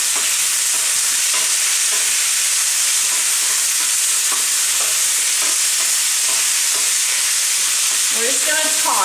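Potatoes and onions sautéing in a hot stainless steel pan over medium heat, a steady loud sizzle with crackling pops running throughout, no talking.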